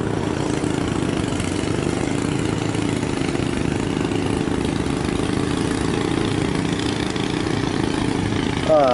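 A boat engine runs on a busy river among barges, giving a steady, droning mid-low idle that holds evenly throughout without letup.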